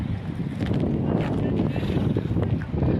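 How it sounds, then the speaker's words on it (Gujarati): Cool wind blowing steadily at the seashore near Dwarka, a constant low rumbling buffet against the microphone that fills the whole stretch with no letup. "અહીંયા સુંદર ઠંડો પવન આવી રહ્યો છે"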